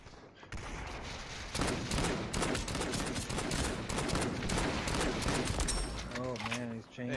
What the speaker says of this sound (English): I'm gonna fucking shoot my gun.